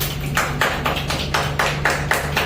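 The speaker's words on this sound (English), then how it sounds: "Clap for her." A classroom of students clapping for a classmate in an English speaking class, a steady round of many hands patting together, dense and sustained throughout at moderate volume, with a faint low hum beneath.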